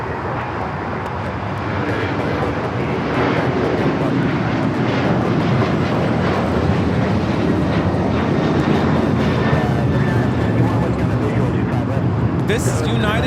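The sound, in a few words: United Airlines Boeing 737-900ER taking off at LAX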